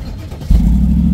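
A Mercedes-Benz SLR McLaren engine fires up after a short quiet pause, jumping into a loud, steady low rumble that holds through the rest of the moment.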